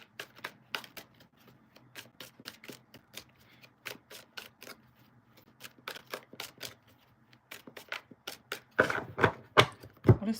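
Oracle cards being shuffled for a tarot reading, a steady run of crisp riffling snaps and flicks close by that grows denser and louder toward the end, with no talking.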